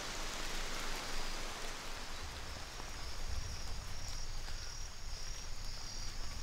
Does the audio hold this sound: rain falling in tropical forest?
yes